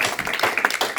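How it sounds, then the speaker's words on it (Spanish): Congregation at a church service clapping for Jesus, a short burst of scattered, uneven claps that rises and dips across the second, fairly close. "Denle un aplauso al Señor Jesús con todo su corazón."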